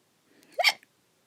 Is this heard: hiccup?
yes